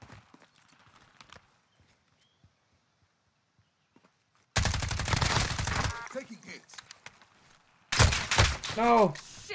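Bursts of automatic gunfire in Call of Duty Warzone, loud, rapid volleys arriving in two separate stretches after a quiet opening, with a player's voice speaking under and between the shots.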